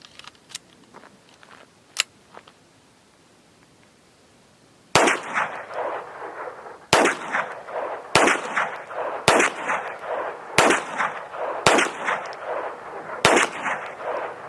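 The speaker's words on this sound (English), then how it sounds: "10 rounds, Winchester High Velocity, 1330 feet per second." .22 Winchester High Velocity rounds at 1330 feet per second are fired as a series of sharp, loud, evenly spaced shots after a quiet stretch of faint clicks, each crack followed by a short ring.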